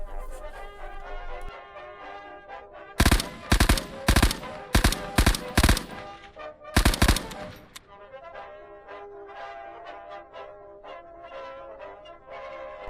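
In a video game, an FG-42 rifle fitted with a scope and bipod fires several loud bursts over background game music, with short gaps between the groups of shots.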